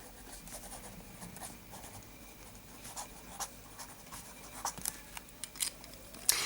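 Fountain pen, a Visconti Istos Arachnis with a medium palladium nib and Akkerman Bekakt Haags brown ink, writing across wide paper: continuous soft scratchy nib strokes with small ticks and taps, close and quiet, no voices.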